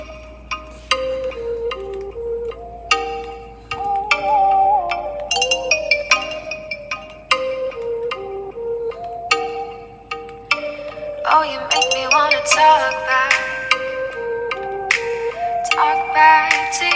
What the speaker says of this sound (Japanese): 次はMi11の方を鳴らしてみます。